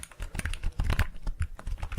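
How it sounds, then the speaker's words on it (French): A gaming computer keyboard, missing a few keys, handled and tapped up close, giving a quick run of irregular plastic clicks and clacks with no talking. "On a un super clavier là."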